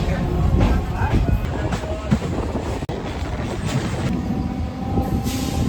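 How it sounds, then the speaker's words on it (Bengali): Local train standing at Lakshmikantapur station, bound for Namkhana, with a steady rumble of the halted train and platform bustle throughout; people talk in the background. "আমরা এখন এসে পৌঁছেছি লক্ষ্মীকান্তপুরে। এই ট্রেনই নামখানা অবধি যাবে।"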